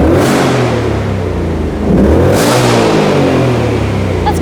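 A Ford Mustang Dark Horse V8 revs with its exhaust in quiet mode: a close, loud engine rises in pitch, drops back, then climbs again briefly.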